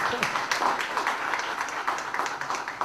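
An audience at a security forum applauds after a presentation, moderately loud scattered clapping with a slightly uneven rhythm, mixed with some murmur of voices.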